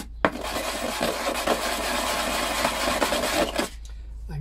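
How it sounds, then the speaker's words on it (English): A glass bottleneck slide for a cigar box guitar is rubbed in circles on sandpaper on a bench, producing a close, steady gritty scraping that runs for several seconds before stopping. "just rub the bottleneck in circular motion on the top and just keep going"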